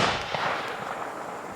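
A single sharp .270 rifle shot fired into a block of hickory wood, a close, bright crack at the start that decays into a long outdoor echo.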